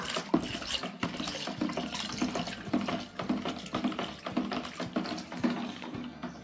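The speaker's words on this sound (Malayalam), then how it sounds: "മൂന്നാം നമ്പർ നമുക്ക് ഇതിലേക്ക് ആഡ് ചെയ്ത് കൊടുക്കാം മിക്സ് ചെയ്യാം" Liquid hand wash ingredients are stirred together in a large batch, giving a close, gentle, continuous sloshing and swishing of thick liquid with uneven pulses, quiet and without talk.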